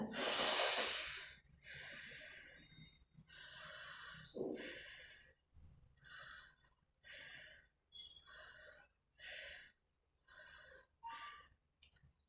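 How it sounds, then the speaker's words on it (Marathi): Deep, forceful breaths drawn in and pushed out through the right nostril during a chakra meditation practice. They come as a long opening exhale followed by a steady series of short, close, snort-like breath bursts, with no talking. "उजवी डावी नाकपुडी बंद करा आणि 5 वेळा आपल्या उजव्या नाकपुडीने, पिंगला नाकपुडीने श्वास घ्या आणि सोडा."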